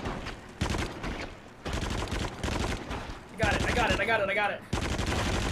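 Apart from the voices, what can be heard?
gunshots in video game Until Dawn: Rush of Blood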